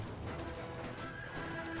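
Horse neighing and hoof clatter in the war strategy game Napoleon Total War, heard as a steady battlefield din with a whinny woven in, continuous and moderately loud.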